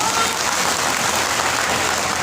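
A crowd at a street rally at Matiakhana breaks into continuous applause, a dense, even wash of clapping that holds at a steady level throughout.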